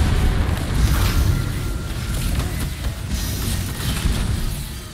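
A smoke bomb bursts in Destiny 2, a dense, rumbling boom-like blast that fills the whole stretch with steady low-end roar and crackle, loud and continuous without clear separate hits.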